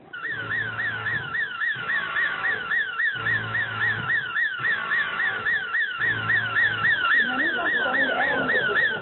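A car alarm wails loudly in rapid repeating warbling cycles with short gaps between bursts, close and insistent, with a low voice-like hum in the pauses.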